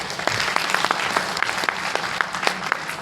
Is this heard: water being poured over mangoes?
no